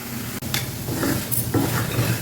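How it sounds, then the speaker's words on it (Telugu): A spoon stirs yogurt into green chillies and spice powder in a pan, with a few scraping strokes against the metal over a soft, steady sizzle. "ఇలా ఒక కప్పు పెరుగు అందులో వేసేయండి ఒకసారి కలిపేసేసి"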